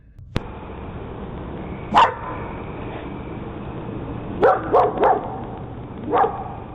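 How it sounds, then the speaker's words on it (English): A dog barks several times in the distance over a steady outdoor hum: one bark, then a quick cluster of three, then another. "the dog can be heard barking in the background"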